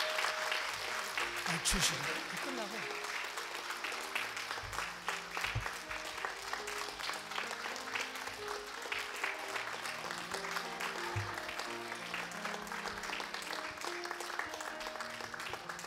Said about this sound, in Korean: 우리 크게 박수해도 괜찮습니다